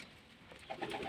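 A pigeon in a bird enclosure gives a brief, soft coo that swells near the end of a short, quiet stretch.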